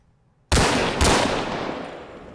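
A single loud gunshot from a weapon in Arma III, then a second quick shot, each leaving a long reverberating tail that fades slowly, close and with no voices.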